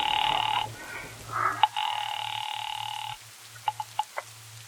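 Telephone tones in a 1940s radio drama call to the police department: a brief dial buzz and tone bursts, then a sustained ring signal, followed by a few short clicks of dialing.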